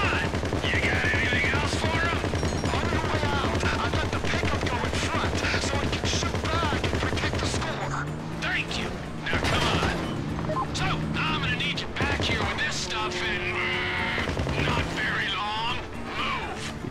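Sustained rapid gunfire from a vehicle-mounted gun in GTA, loud and continuous with crashing impacts, under an excited voice talking throughout.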